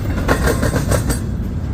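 Freight train rolls by close at hand, rhythmic clickety-clack of wheels over rail joints with a steady rumble and no talk.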